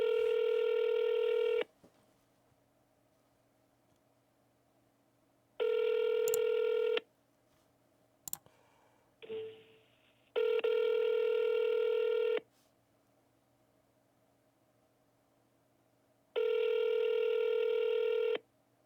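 Ringback tones sound for an outgoing phone call, long steady beeps repeating at intervals with silent gaps, plus a few short clicks and dialing blips between them.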